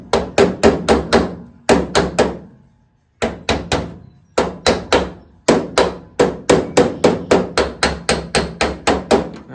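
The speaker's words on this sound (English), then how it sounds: "A little hammer and dolly work trying to straighten this hood out just a little bit" Hammer and dolly work on the steel hood of a 1968 Firebird: sharp metallic strikes in quick, even runs of four to seven blows, separated by short pauses, loud and close with ringing decay.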